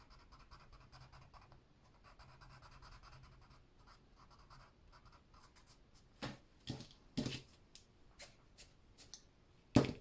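Colored pencil rubs on paper in an adult coloring book, a soft, faint, steady scratching that breaks into a few sharper, louder strokes and taps near the end.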